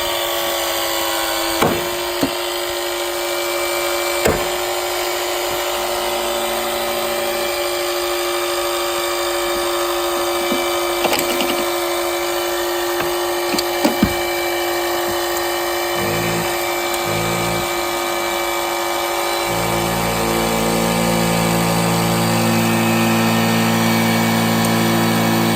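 Hydraulic rescue cutter biting through a car's dash structure near a gas shock during a vehicle extrication, a steady loud engine-driven whine with sharp metallic snaps and cracks at intervals, the pump pitch shifting near the end.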